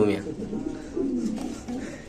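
Mundian pigeons at a wholesale pigeon market coo in low, rolling phrases that run steadily throughout, with people talking nearby.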